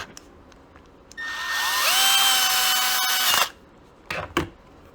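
A power drill bores a hole through a copper penny to make a makeshift fender washer, giving a loud, rising whine that holds for about two seconds and then stops, followed by a couple of brief clatters.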